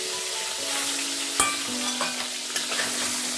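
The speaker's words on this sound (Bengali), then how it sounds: "এবার বাকি মাছগুলোকেও আমি এইভাবে ভেজে নেব।" Shol fish fry in a pan with a steady hissing sizzle, punctuated by a few sharp clinks and scrapes of a utensil, close and moderately loud with no talking.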